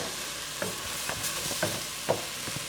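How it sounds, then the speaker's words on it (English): Okra cooks slowly over very low heat for a Caribbean fish stew with fungi or cou cou. A soft, steady sizzle runs throughout, broken by several light scraping stirs, with no talking. "We just let the okra go on a very slow heat."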